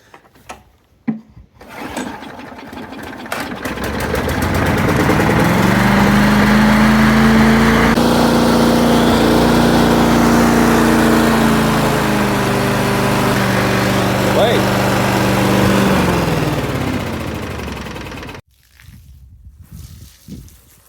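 A Rover lawn mower with a Briggs and Stratton Quattro engine cranks, catches and roars into a loud, steady run for about fifteen seconds before cutting off abruptly.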